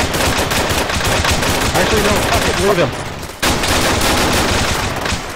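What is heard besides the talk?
gunfire in the video game Arma (Bourbon Warfare mission)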